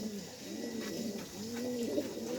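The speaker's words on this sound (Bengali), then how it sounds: "তারপরে কবুতর" Pigeons coo in soft, rounded, repeated phrases, several birds overlapping closely and steadily through the whole stretch, with no talk over them.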